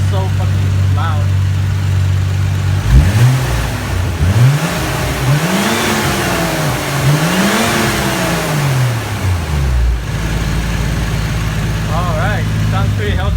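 A car engine idles, then revs up and down several times in rising and falling sweeps before settling back to idle, loud and close, with a loud fan nearby and some talking over it.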